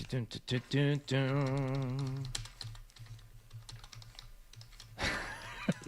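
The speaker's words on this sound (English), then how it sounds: "Everyone typing at once." Several people type at once on computer keyboards in a sports radio studio, a steady patter of close clicks running under and between voices talking.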